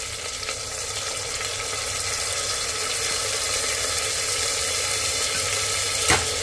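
Soaked rice being stirred and fried in a pan for sweet Sindhi tahiri, giving a steady, close sizzle with light scraping, one brief clack near the end, and no voices.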